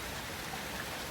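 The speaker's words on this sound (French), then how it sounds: "il fait un temps pourri. Pluie, orage, vent." Steady wash of rain in stormy, windy weather, a dense continuous hiss with no distinct drops or thunder, heard alone for about a second.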